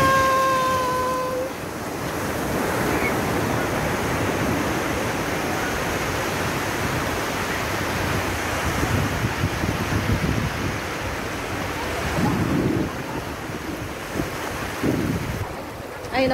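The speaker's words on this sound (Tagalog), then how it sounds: "Ang lalaki ng alon niya." Large ocean waves crash and roll onto a beach in a continuous roar, with heavy wind buffeting the microphone and swelling surges as the surf breaks.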